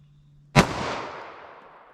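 A single sharp gunshot from a Glock 41 pistol with a 5.3 inch barrel firing .45 ACP, loud and close, with a long reverberant tail fading over a second.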